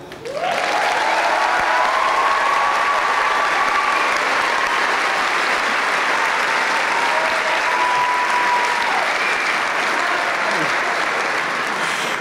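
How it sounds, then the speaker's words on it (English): Graduation crowd applauding and cheering the class of 2016, loud sustained clapping from a large audience with shouts and whistles rising above it, continuous throughout. "Go forward now and greet the world with the cheering of this crowd."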